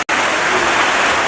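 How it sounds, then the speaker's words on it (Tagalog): Heavy rain pours in a dense, constant roar close by, a steady wash of sound after a brief cut at the start, with no voices. "Grabe, may panahon diri nga ulan kayo, siguro ga ulan"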